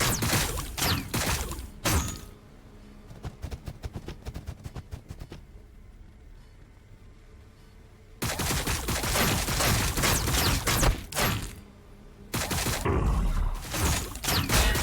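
Heavy volleys of gunfire from the Warhammer 40K: Battlesector game crack out in dense loud bursts, drop to a quieter stretch of scattered shots in the middle, then resume as sustained roaring fusillades toward the end.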